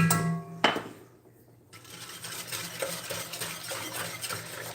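A whisk stirs cornstarch into a creamy sundried tomato pasta sauce in a pan, a metallic clink and then a steady scraping, swishing rhythm, close and alone.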